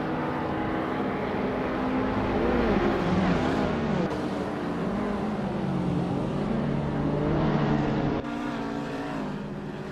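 Race cars in a racing game, among them a 2016 Lexus IS 350, with engines droning and whining continuously as the pitch rises and falls through gear changes, loud and without talk.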